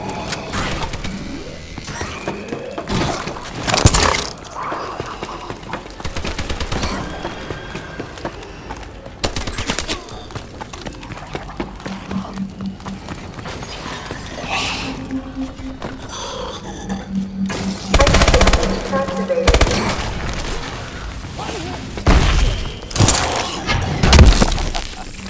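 Rapid bursts of gunfire and sharp impacts in the shooter game Call of Duty: Advanced Warfare, loud and close, with intermittent clattering and crashing under a busy battle bed and brief spoken callouts.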